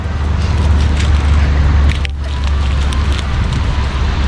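A campfire lit by primitive methods beside a handmade shelter in the wild burns with a continuous dense crackle and roar, loud and close, with no voices.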